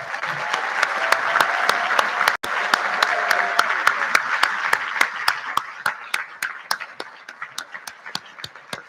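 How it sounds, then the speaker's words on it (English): An audience at a high school senior awards ceremony gives a round of applause, a thick sustained burst that gradually loosens into sparse, separate claps trailing off at the close. "a round of applause?"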